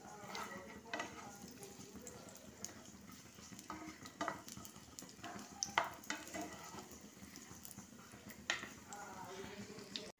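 Chopped walnuts, dates and mixed fruit fry in ghee in a pan, a soft continuous sizzle with scattered stirring scrapes and clinks, quiet and close, with no one talking over it.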